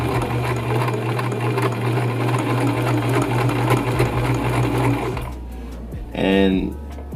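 A sewing machine stitches a straight line on fabric with a fast steady whirring hum that stops near the end, followed by a few clicks and a brief mechanical whine, heard close up.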